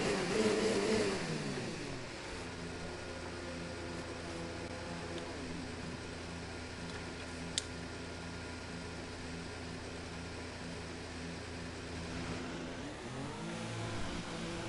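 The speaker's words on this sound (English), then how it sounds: "out on track goes our Renault" In the F1 2019 racing video game, a Renault car pulls out of the garage onto the track in Australia. A steady mid-pitched engine drone holds for several seconds, with a brief rise at the start and end. No one speaks.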